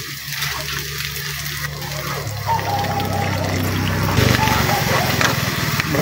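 Second coconut milk pours and trickles into a pot of cooking jackfruit leaves, a steady liquid splash with a low hum underneath while a voice talks over it.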